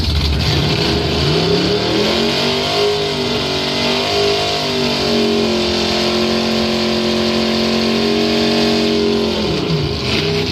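A bracket drag racing car accelerates hard down the strip at Northern Michigan Dragway, a loud, sustained engine roar climbing through its revs and shifting gears before fading at the end, with no talking.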